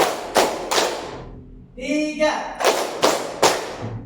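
Students clap together in a counted rhythm pattern, sharp unison claps in spaced pairs and groups, with a brief spoken or sung interjection in the middle.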